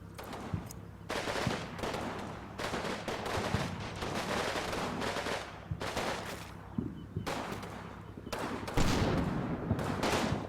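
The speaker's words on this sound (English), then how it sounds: "they are definitely under heavy fire" Bursts of gunfire in the WW2 video game Combat Mission: Fortress Italy, set in northern Sicily. Repeated sharp volleys and rattling machine-gun fire come and go over about ten seconds, with a heavier blast near the end.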